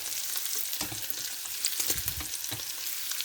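Shiitake mushrooms and carrot sizzle steadily in a hot pan, with a constant frying hiss broken by irregular scraping stir-fry strokes close by.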